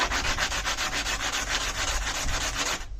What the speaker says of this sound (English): So I'm just gonna sand a little bit down the rough surface,